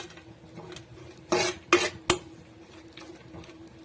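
Vermicelli roasting in a spoonful of ghee in a pan, with a few loud scraping clatters of a spoon stirring against the metal over a low background hum.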